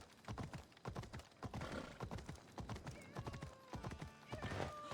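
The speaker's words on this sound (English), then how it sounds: "I'm glad that my horse knows how to go downstairs." A horse's hooves clatter down stairs in Assassin's Creed Odyssey, a steady run of close, quick clip-clop strikes with a brief whinny-like tone partway through.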